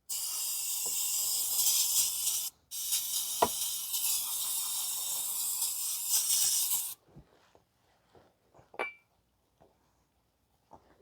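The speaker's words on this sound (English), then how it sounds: "we'll clean everything with brake cleaner" Brake cleaner sprays under a 2023 Nissan Versa 1.6 during an oil change, a loud, steady hiss in two long bursts split by a brief pause, then faint metallic clinks and taps.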